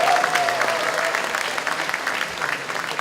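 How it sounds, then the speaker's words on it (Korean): An audience applauds at a local election candidates' campaign launch rally, producing a dense, sustained clapping roar that starts strong and eases off slightly over a few seconds. "박수로 여러분들 환영해 주시기 바랍니다."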